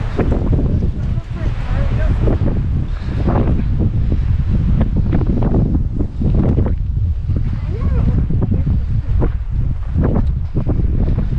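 Strong gusting wind in a Texas Panhandle canyon roars and buffets the microphone continuously, with rushing, rumbling bursts throughout.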